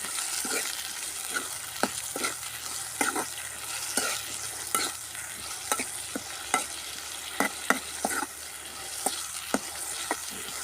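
Vegetables with salt sizzle steadily in a pan while a spatula scrapes and taps against it in irregular strokes. No voices.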